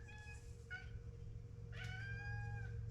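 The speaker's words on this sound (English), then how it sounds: "My cat wants to come up here." A pet cat meows twice, short clear cries that rise and fall, heard close over a steady low hum in a workshop where a Yamaha Moto 4 ATV carburetor is being rebuilt.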